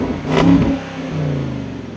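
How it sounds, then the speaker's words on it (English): A Land Rover Defender engine revs sharply once, then settles into a deep, throaty exhaust burble close by. "there was a little more theater from the exhaust note."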